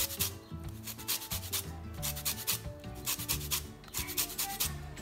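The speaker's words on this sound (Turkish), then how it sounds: "sarı kısmı dış kabuğunu rendeliyoruz" Orange peel rubbed against a grater to take off the zest, a steady rasping scrape in quick repeated strokes, close and fairly quiet, with no one speaking.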